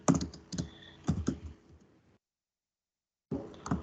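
Clusters of close, crisp keystrokes on a computer keyboard, a few quick taps in bursts, then a second of silence before another short run of typing.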